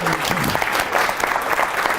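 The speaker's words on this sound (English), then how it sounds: "Let's give the Sheriff a big round of applause." Loud, dense applause from a chamber of commerce audience honoring a county sheriff, steady clapping from a crowd with voices mixed into it throughout.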